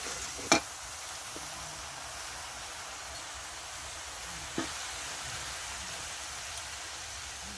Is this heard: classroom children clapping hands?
no